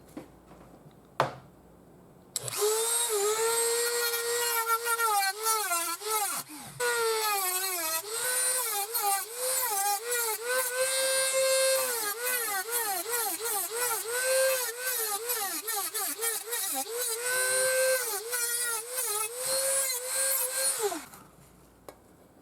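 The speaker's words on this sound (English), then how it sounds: "the cutting will be done using my favorite tool in the world," A Dremel rotary tool cuts a hole in a glass jar, a loud, steady high-pitched whine with wavering pitch as the bit grinds against the glass, running continuously for about twenty seconds after a brief quiet start.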